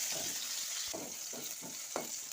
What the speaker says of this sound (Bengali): এখন আমি ক্যাপসিকামগুলো ভেজে নিচ্ছি